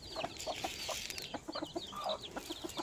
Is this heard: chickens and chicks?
yes